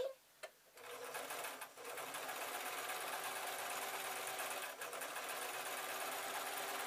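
A sewing machine stitches the seams of simple baby or toddler shorts, running in a steady, continuous drone after a few short starts, close and fairly loud with no talking.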